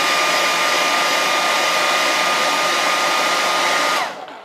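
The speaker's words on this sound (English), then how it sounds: "Even though I'm blow-drying it, it's still semi-wet because I kind of sprayed a little thicker." Hair dryer blow-drying freshly sprayed red-orange paint on a Darth Talon premium format statue, a loud steady close whirring blast that runs unbroken and then winds down as it is switched off.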